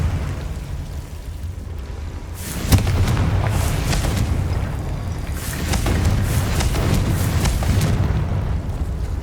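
Fiery blast of the Confringo spell in Hogwarts Legacy, a sharp booming burst rising out of a dense rumbling game soundscape, followed by sustained roaring crackle and further bursts.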